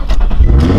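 An Infiniti G35 with swapped-in 350Z seats cranks and catches, a short loud burst of starter whir and engine rumble pulsing close by.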